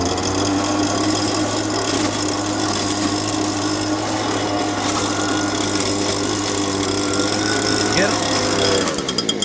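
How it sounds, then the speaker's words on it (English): A machine called Scout sucking up debris during a property clean-up, a loud, steady mechanical roar with rattling and churning throughout, close and continuous, with some voice mixed in underneath. "I'll show you some action of scout sucking up the stuff"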